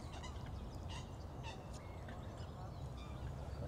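Waterfowl call at Western Springs lake with faint, scattered honks over a steady outdoor background hum, several calls spread across a few seconds at a distance.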